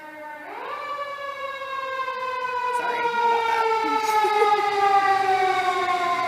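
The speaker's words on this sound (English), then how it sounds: "you can hear the sirens going in the background nonstop in the traffic" Emergency sirens wail steadily and loudly in outdoor traffic, their tones rising and holding across the whole stretch while a voice speaks briefly over them.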